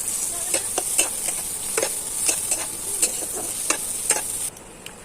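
Onion and chilli frying in a pan with a soft, continuous sizzle, while a utensil stirs them with regular scraping taps about twice a second.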